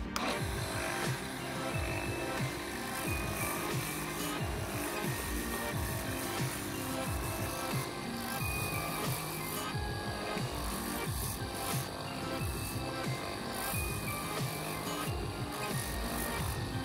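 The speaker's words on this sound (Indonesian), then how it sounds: "Oke, kita lanjut lagi ke bagian pengamplasan." Stone being sanded by hand with 240-grit sandpaper, held on a handle because it is small; a steady, continuous scratchy rubbing with rhythmic strokes, close and fairly loud throughout.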